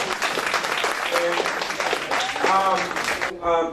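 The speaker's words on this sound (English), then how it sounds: "let's give those young men and women in the city of North Miami Police Department a round of applause" Applause from the audience at a North Miami city town hall meeting, with dense clapping mixed with murmured voices. A speaker's voice comes through clearly as the clapping fades at the end.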